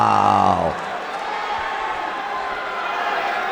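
Boxing event crowd at a fighter's entrance: a voice speaks over a loud public address, then gives way to sustained, roaring applause and cheering that fills the hall.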